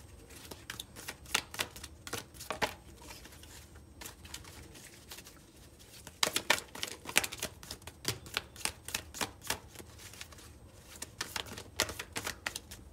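Handmade, self-made tarot cards being shuffled, giving a run of crisp rapid riffling clicks in bursts across the whole stretch, with denser flurries midway, close and fairly quiet with no talk.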